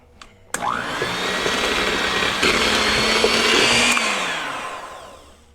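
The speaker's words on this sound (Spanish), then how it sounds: "Y la vas a batir a velocidad baja para que no te bote todo el azúcar." An electric mixer beats butter and sugar at low speed: a click, then a steady motor whir held for several seconds before it winds down and stops.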